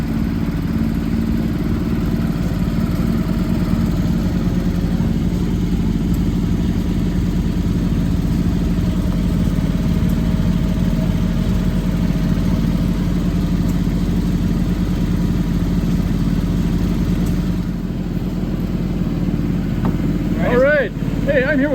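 Tractor engine idling steadily at a harvest reunion show, a continuous low rumble close by for the whole stretch, with faint outdoor background and a brief higher whine near the end.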